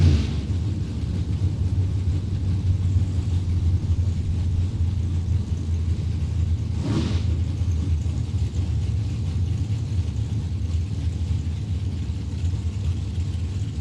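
Drag racing cars at a Super Pro drag strip rumble in a loud, steady, continuous engine drone for the whole stretch, with no clear launch or pass standing out.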